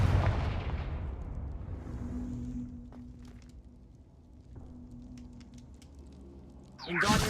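Blasting-spell explosion from the Hogwarts Legacy game, a loud boom at the start trailing into a long fading rumble with faint crackles, followed by a second sharp blast at the end.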